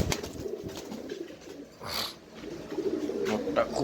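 A male pigeon released on a floor gives soft, low cooing near at hand, mixed with shuffling and a brief rustle midway.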